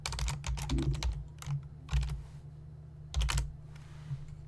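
Close computer keyboard typing in quick bursts of clicks separated by short pauses, a few keystrokes at a time, quiet and alone with no talking.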